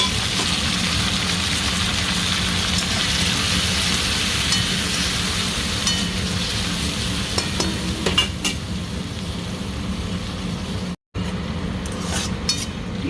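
Tomatoes go into onions frying in oil, and a loud, continuous sizzle follows, with stirring scrapes and a few metallic clinks close by. A brief dropout breaks the sound near the end.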